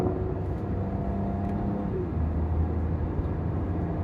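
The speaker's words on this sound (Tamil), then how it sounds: "ஒரு கியர் டவுன் பண்ணி ப்ரெஸ் பண்ணலாம்." A Hyundai Venue N Line compact SUV pulling away after a downshift from fifth gear, steady engine drone and road noise from inside the cabin, with the engine pitch shifting midway.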